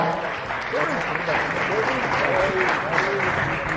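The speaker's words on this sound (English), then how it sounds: "a big round of applause" An audience applauds steadily throughout at a football club press event for Mamelodi Sundowns, a loud, continuous patter of clapping mixed with crowd voices talking.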